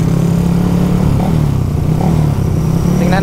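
Raider FI motorcycles on a group ride, a loud close engine drone with steady humming tone, slight revving shifts and wind rumble throughout.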